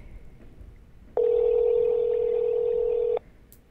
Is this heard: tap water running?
no